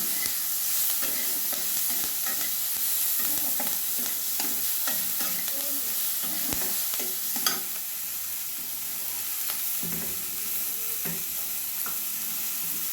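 Chopped tomato sizzles and fries in a pan with steady crackle, while a utensil stirs and scrapes through it in repeated close strokes; constant, fairly loud, no voices.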